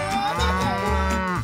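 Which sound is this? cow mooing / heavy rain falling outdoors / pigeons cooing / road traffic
cow mooing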